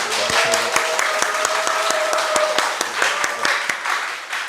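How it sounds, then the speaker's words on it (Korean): A studio audience gives a steady round of welcoming applause for a guest at a Korean talk show on natural healing, many hands clapping evenly for several seconds alongside a faint sustained tone. "우리 함께 환영의 박수 한번 해주세요."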